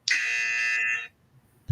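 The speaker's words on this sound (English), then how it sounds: "that sounds like a buzzer" A trivia game buzzer blares once, loud, harsh and steady for about a second, then cuts off, followed by a faint thump.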